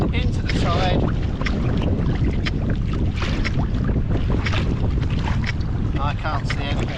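A Galaxy Wildcat kayak heads into wind and tide, its paddle strokes splashing under heavy, constant wind buffeting on the microphone. Water sloshes close by throughout.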